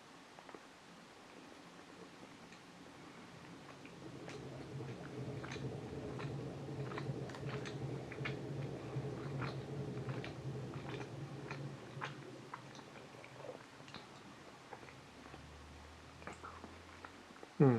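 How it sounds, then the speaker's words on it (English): Someone bites and chews a piece of Fraccaro pandolce with chocolate chips, a soft, faint, close mouth sound with scattered light clicks and a gentle swell of chewing in the middle; no talking. "let's tear off a smaller piece towards the base. And taste it."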